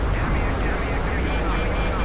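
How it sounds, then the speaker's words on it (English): An airplane drones and roars steadily in a military shooter video game, a loud, continuous broadband engine noise filling the whole stretch, with a voice faintly mixed in. "Plane behind, but hopefully he doesn't see me."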